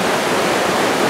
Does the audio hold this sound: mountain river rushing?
yes